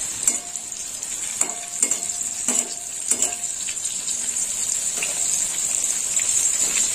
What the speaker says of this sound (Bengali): করলাগুলো একটু লাল লাল ভাজা হবে।